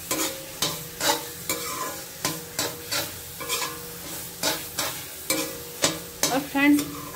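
Carrot halwa (gajar ka halwa) is stirred and cooked in a pan, with a steady run of scraping spoon strokes against the metal and a soft sizzle underneath, close and fairly loud, no talking.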